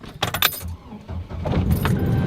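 Keys jangle and a GM vehicle's engine cranks and starts in cold weather at around twenty-something degrees, catching quickly and settling into a steady idle close by.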